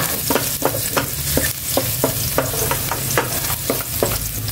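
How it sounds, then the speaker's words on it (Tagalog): Garlic sautéing in a saucepan of hot cooking oil, a steady loud sizzle with repeated sharp scraping stirs at a quick irregular rhythm, close by and without voices. "Magisa na ako ng bawang."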